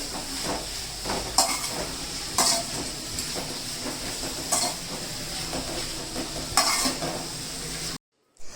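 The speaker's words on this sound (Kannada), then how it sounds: "ನೀಟಾಗಿ ಅದನ್ನು ಬಿಸಿ ಮಾಡ್ಕೊಂಡು ಫ್ರೈ ಮಾಡ್ಕೋಬೇಕು" Chicken for a pepper dry sizzles in a hot pan, with several sharp scraping stir strokes at irregular intervals over a continuous frying hiss, close and fairly loud, then a brief silence near the end.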